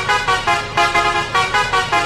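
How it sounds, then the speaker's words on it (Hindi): A loud, blaring bus horn in the video game Bus Simulator Kerala sounds in a rapid series of short honks, roughly eight toots in quick, uneven rhythm. "बाकी आप इसका हॉर्न सुन सकते हो,"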